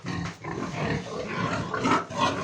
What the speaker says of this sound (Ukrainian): Такі хороші свинюхи.